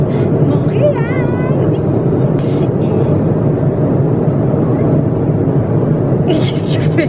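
Steady, loud roar of an airliner cabin in mid-flight on a long trip to Montreal, a constant broadband drone with faint voices and brief clicks over it.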